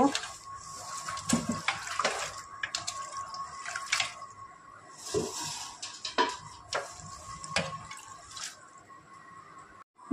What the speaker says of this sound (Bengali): এবার তো শাকটাকে ধুয়ে নেব।